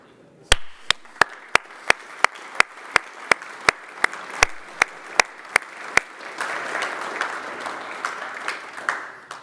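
An audience at a LINX internet exchange meeting applauds, with about fifteen loud, evenly spaced claps standing out at first before a broader spread of clapping from the room takes over.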